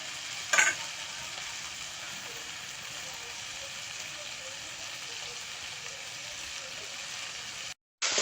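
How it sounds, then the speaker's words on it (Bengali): Sundarbans crab stir-fried with chilli, garlic, ginger paste, turmeric, chilli powder and cumin paste hisses in a steady, even sizzle, with one sharp clatter near the start and a brief dropout at the end. "আরো কিছু সময় কাঁকড়াটা কষিয়ে নেব"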